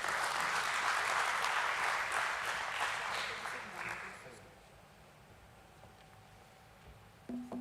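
An audience at a stock exchange listing ceremony for Muthoot Microfin at BSE claps warmly for a few seconds, the applause fading out to a quiet room with a faint tone near the end.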